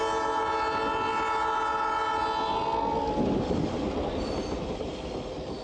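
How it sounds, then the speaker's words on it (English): A San Diego Railroad Museum train sounds a long, loud horn blast that holds for about three seconds, then gives way to rumbling wheels and rattling cars rolling along the track. "one of the highlights of the reunion was an afternoon train ride, courtesy of the San Diego Railroad Museum"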